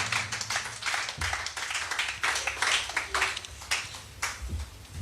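A church congregation claps to acclaim the Lord, a dense, fairly steady patter of many hands with uneven swells, heard fairly close and with no talking.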